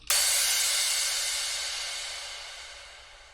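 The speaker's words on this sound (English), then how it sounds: "It's the Crash number 1, sounds like this." A single crash cymbal hit rings out bright and washy, then decays slowly over a few seconds. Nothing else is heard.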